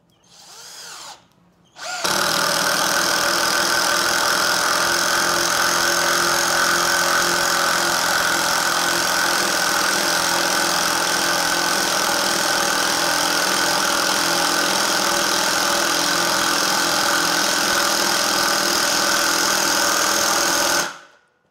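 A battery-powered INGCO cordless impact driver rated at 100 Nm runs steadily while driving a screw, a loud continuous whir lasting about nineteen seconds after a brief start-up burst, with no one talking.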